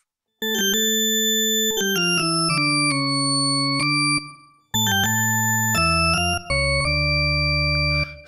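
PWM Mantis synthesizer played with reverb, a sequence of bright harmonic tones stepping downward in pitch with clean attacks and ringing overtones, a short pause midway before deeper bass-heavy notes resume, no talking.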